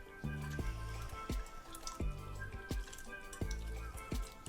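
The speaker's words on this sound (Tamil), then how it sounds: "இது மாதிரி புளிஞ்சு சேர்த்துக்கோங்க." Wet squishing and dripping as tamarind is squeezed by hand in water, repeated in a steady rhythm of about six squeezes, close and moderately loud.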